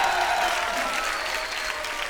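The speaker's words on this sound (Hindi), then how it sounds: "पहले तो ट्रेलर के लिए जोरदार तालियां हो जाए।" A studio audience at a comedy stage show bursts into strong, even applause for the Lucknow Central trailer, a continuous roar of clapping heard alone.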